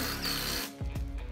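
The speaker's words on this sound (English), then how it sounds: "we have to drill them into the frame" A power drill drives special screws into the frame of a DIY squaredrop camping trailer from a Burnside model kit: one loud close whirring burst that cuts off, followed by a few lighter mechanical clicks and clunks.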